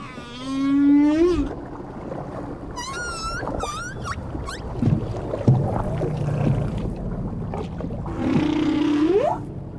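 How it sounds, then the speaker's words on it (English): Humpback whale song recorded underwater, with long rising and falling moans, whoops and high harmonic cries repeating over several seconds, close and loud against a constant rumbling sea background. "the first people to dive down to a singing whale."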